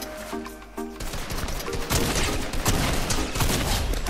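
Gunfire rattles in Fortnite OG Reload, with bursts of shots cracking in quick succession over busy game noise, loud and close, some volleys denser than others.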